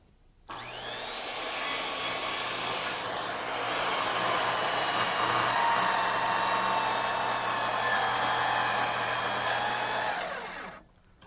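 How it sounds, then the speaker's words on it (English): Power saw with its blade set to full depth ripping through wood for a terrace, one sustained high whining cut of about ten seconds that starts and stops abruptly, loud and close with no talk. "Then reset the blade to full depth for the rip cuts."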